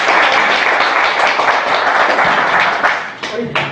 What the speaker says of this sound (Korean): 네, 좀 박수 한번 쳐주세요.